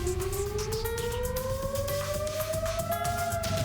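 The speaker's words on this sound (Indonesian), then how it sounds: "Suara sirine menggema di Tel Aviv saat pertahanan udara Zionis mencegat rudal Iran" An air raid siren wails over Tel Aviv during an Iranian missile attack, a steady rising tone that holds loud and unbroken over a low background rumble.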